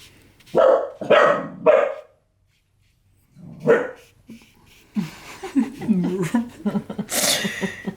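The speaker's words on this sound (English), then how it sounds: "I love her bark when she has something in her mouth already." A pet dog barks with something held in its mouth, giving three muffled, close barks in quick succession and another a moment later, followed by someone talking.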